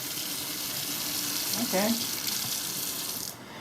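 Water runs from a leaking valve in a 1984 lakeside house as a faint, steady hiss, with a brief spoken word partway through.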